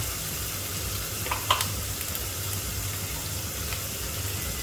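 Chopped onions frying in a pan with a spoonful of ginger-garlic paste for a sweet pumpkin ghonto: a steady, close sizzle with a couple of light stirring clicks partway through.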